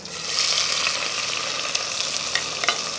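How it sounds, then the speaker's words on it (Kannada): Onion frying in hot oil with kasuri methi, a steady close crackling sizzle with a few sharper pops, stirred along continuously with no talking. "ಈರುಳ್ಳಿ ಕೆಂಪಾಗಬೇಕು, ಸ್ವಲ್ಪ ಫ್ರೈ ಆಗಬೇಕು ಈರುಳ್ಳಿ, ಫ್ರೈ ಆಗ್ತಾ ಇರಲಿ"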